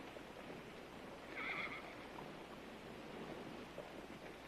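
A horse whinnies once, briefly and at middle distance, against a quiet, steady background hush at an auction, with no voices.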